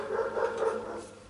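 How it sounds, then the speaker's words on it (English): Excited dogs whimper and make short whiny vocal sounds in a few rising pulses, moderately close, with no talk over them. "the dogs are excited"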